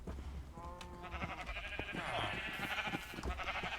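Sheep in the Minecraft video game bleat a few times on a farm, the calls rising over steady game sounds and a voice talking across the clip.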